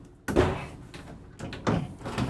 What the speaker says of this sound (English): nice pocket door.